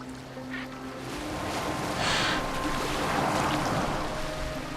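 Boat gliding over water in Assassin's Creed Valhalla, a steady wash of water and waves with a low hum beneath, swelling slightly midway, with faint bird calls and no talk.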